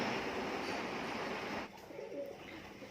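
Soft pigeon cooing in the background over a steady rumbling hiss of heavy rain that drops away midway, leaving quieter ambience.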